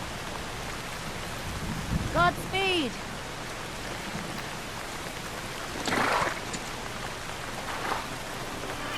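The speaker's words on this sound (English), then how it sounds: "The rain effects could do a little better," Steady rain falls throughout a medieval scene in Kingdom Come: Deliverance II, a soft continuous hiss under brief spoken lines from characters.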